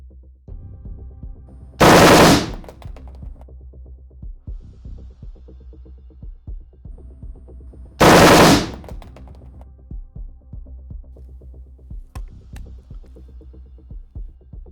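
An AN-94 assault rifle fires two short automatic bursts about six seconds apart, each a loud dense rattle of shots, with a low humming drone and scattered faint clicks between them.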